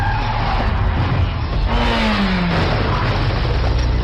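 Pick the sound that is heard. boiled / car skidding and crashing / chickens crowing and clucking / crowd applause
car skidding and crashing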